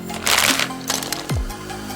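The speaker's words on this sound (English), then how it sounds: "Hope you like opening tiny plastic bags." Tiny plastic bags of LEGO pieces are torn open close up, giving sharp crinkling and ripping bursts with a short rattle and a low thump near the end.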